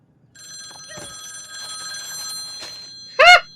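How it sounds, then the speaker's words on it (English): A cartoon cell phone rings with a sustained electronic trill, ending in a louder, sharper burst of bright tone, and no voices are heard. "Your cell's ringing."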